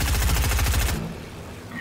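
Rapid automatic gunfire in the video game Fortnite, a dense burst of close, loud shots lasting about a second before breaking off into quieter game noise.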